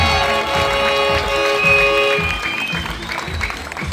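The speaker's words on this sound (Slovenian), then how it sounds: "Številka 2, dajmo na aplavz, tu je Sven Cerjak Slovenija." Crowd applause at a motocross event as 250 cc riders are introduced, a steady broad clapping that holds loud throughout with an announcer's voice faintly beneath.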